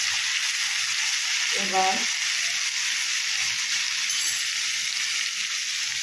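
Two slit green chillies sizzle in hot oil in a pan, a steady loud hiss throughout, with a brief spoken word and a faint stir partway through.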